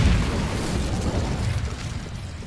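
A loud, sustained roaring fire blast from the Incendio spell in Hogwarts Legacy, a dense rumbling burst that fills the whole moment on its own with no talking.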